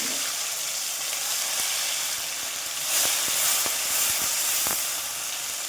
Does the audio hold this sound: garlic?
yes